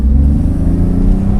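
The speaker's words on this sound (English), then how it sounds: "We're going to take this beautiful car for a test drive" A 1994 BMW 850CSi pulls hard on a test drive, its engine a loud, sustained low rumble rising slightly as it accelerates, heard close from inside the cabin with no talking.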